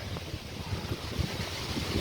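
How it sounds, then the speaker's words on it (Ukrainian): Strong wind at a river buffets the microphone in low, uneven gusts, a steady rumbling roar with no voices. "тут дуже сильний вітер"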